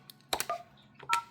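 Several short, faint keypad tones sound close by in an uneven sequence as an extension is dialed on a FreePBX phone system.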